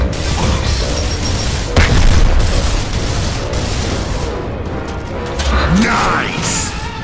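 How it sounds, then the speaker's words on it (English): Frag grenade detonating in the Gears of War: Ultimate Edition campaign, a loud boom within dense, continuous gunfire and battle noise, with voices talking over the mix. "grab the grenade. Get a frag in there!"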